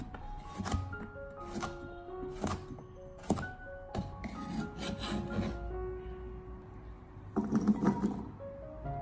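Half a peeled carrot, first cut into thick slices and strips, is diced into small cubes with a knife on a cutting board, giving a run of quick, close knife taps and thunks in uneven bursts, with a denser flurry near the end.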